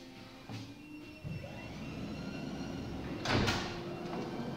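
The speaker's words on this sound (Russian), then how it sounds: "То есть дверь еще не открылась, а подножка уже открылась." Sliding door of a passenger minibus opening while an automatic boarding step extends beneath it: a low mechanical whir and rumble building up, a clunk near the start and a sharper clatter toward the end, fairly close and without speech.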